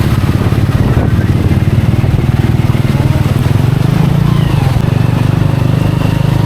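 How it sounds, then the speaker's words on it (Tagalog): A heavy, large motorcycle engine thrums close by with a deep, steady rumble, rising slightly in pitch as it revs, under faint wind noise, on a street in Malolos after Typhoon Carina. "Mga malalaking motor."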